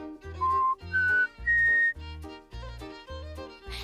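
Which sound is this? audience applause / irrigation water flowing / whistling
whistling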